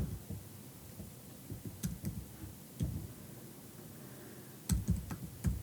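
Sparse keystrokes on a computer keyboard while entering text in Silhouette Studio design software, faint scattered clicks in short irregular clusters against quiet room noise, with no talking.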